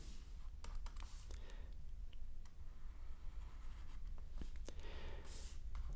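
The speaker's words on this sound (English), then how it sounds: "And I'll draw a graph of it." A graph being drawn by hand for an algebra lesson, with pen scratching and tapping strokes in short bursts, faint and close, over low background hum.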